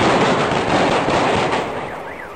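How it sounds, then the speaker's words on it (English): A long string of firecrackers going off at close range, a dense, rapid crackling barrage of sharp pops that stays loud and then tapers slightly toward the end. "It's Wednesday's fireworks celebration."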